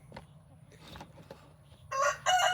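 Backyard chickens cluck softly before a rooster lets out two short, loud crows near the end, close by and with no talk over them.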